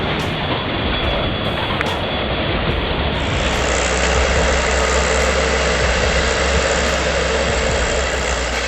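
The engine of an 890.3 timber forwarder hauling a load drones steadily, a loud, continuous, dense rumble with a brighter layer joining partway through and no talk.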